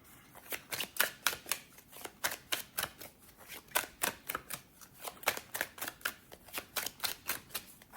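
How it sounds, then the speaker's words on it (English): A deck of Wisdom of Hafiz oracle cards being shuffled by hand, a steady run of crisp, quick riffling slaps repeating for several seconds, close and fairly quiet. "Let's give them a shuffle and pull a card."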